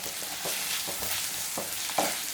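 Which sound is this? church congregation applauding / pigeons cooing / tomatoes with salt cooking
tomatoes with salt cooking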